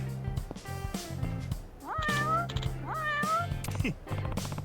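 A cat meows in a video game, giving a few rising and falling calls over a soft ambient music bed, fairly close and clear.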